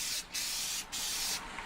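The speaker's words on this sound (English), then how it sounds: "give a little spray on something neutral so that you can test to see how the flow is coming out of the nozzle" A spray can of gloss paint gives three short test bursts onto a neutral surface before a model starship kit is painted, each a close, even hiss separated by brief gaps.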